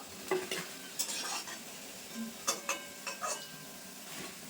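Fried sabudana pakoras are lifted from a pan of hot oil, with a low background sizzle broken by several distinct clinks and scrapes of a utensil against the pan.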